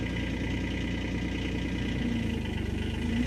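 A 2025 Kubota SCL1000 compact track loader running with a steady, loud diesel idle, a low rumbling drone with faint mechanical whine layered on top and no speech.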